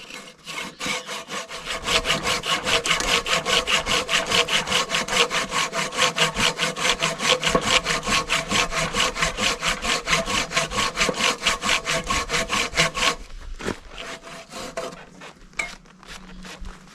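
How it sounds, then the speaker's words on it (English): Handsaw working through oak, a steady rhythm of rasping back-and-forth strokes, close and loud, for about thirteen seconds before stopping, followed by a few scattered knocks and scrapes. "cutting the oak wood with a handsaw is an exercise in patience"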